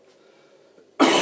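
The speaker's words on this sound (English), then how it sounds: "This cough's really been giving me some grief." A single loud, harsh cough bursts out abruptly at the end, close by, after a stretch of quiet low background murmur.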